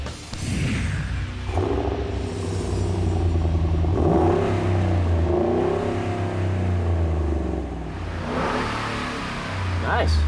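Ford Raptor SVT truck with a newly fitted Borla exhaust revving repeatedly, deep rumbling bursts that rise and fall in pitch, close and loud, with people talking faintly in between.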